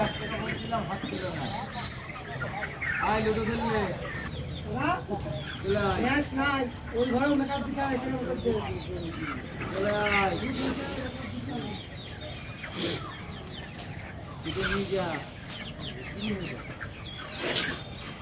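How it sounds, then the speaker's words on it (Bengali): Chickens in a poultry farm housing about 1,500 birds, clucking and calling almost continuously at close range, overlapping one another with a brief flap of wings in the busy din. "এই ফার্মটাই 1700 মুরগি ধরে, এখানে রাখা হয়েছে 1500"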